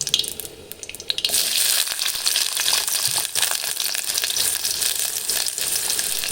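Chopped onion dropped into hot oil for Malvani-style kombdi vade, a quiet start giving way to a steady, bright sizzle that carries on without a break.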